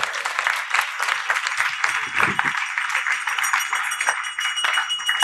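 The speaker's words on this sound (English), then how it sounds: "Please give a big round of applause to them." An audience at a Sunday class at ISKCON Hyderabad gives sustained applause, a dense, steady patter of many hands clapping throughout.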